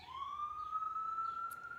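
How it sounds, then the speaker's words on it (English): A police siren wails outside, heard faintly at a distance as a single rising, sustained tone that carries steadily under quiet room noise. "Sorry about the sirens."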